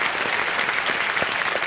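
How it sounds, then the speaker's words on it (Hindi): A studio audience on the KBC quiz show claps in a dense, steady burst of applause welcoming a contestant's wife. "एक बार फिर तालियों के साथ उनका स्वागत किया जाए"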